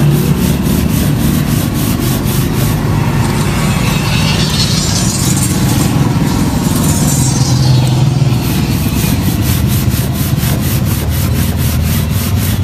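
Vigorous brush scrubbing on a rusty motorbike wheel rim with soap, a loud, continuous rasping rub with rapid back-and-forth strokes running steadily for over twelve seconds, close to the ear, with no voices.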